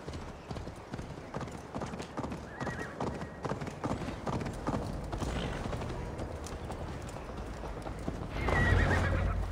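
Rapid hoofbeats clatter in a steady galloping rhythm, then a horse whinnies loudly near the end, with faint ambient noise beneath, in the video game Assassin's Creed Valhalla.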